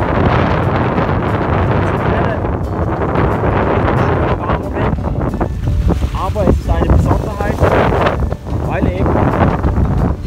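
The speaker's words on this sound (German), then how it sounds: "Und hier bläst ein ganz herrlicher Wind." Strong wind buffets the microphone continuously on a dam by the Baltic Sea, with a roaring rush and gusts, while someone speaks over it.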